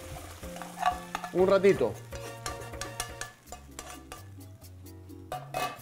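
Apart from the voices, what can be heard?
minced meat searing and being stirred in a pan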